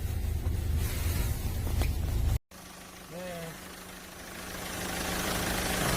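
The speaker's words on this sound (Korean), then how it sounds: "지금 엔진 상태 한번 소리 들어보도록 하겠습니다" A Hyundai Starex van engine idles with a steady low rumble and hum, briefly cut by a short gap; a faint voice and chirpy sounds surface partway through.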